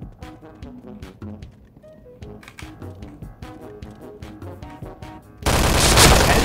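Rapid bursts of gunfire from a K1 rifle in the Point Blank shooter game, the shots rattling over music and game effects before a loud, dense blast of noise in the last second.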